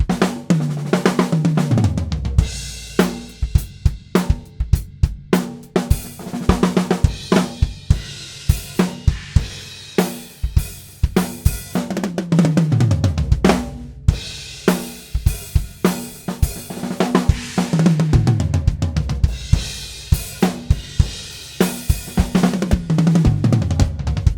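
A full drum kit playing a steady groove, punchy kick and snare hits repeating in a driving rhythm with crashing cymbals washing over, loud and close.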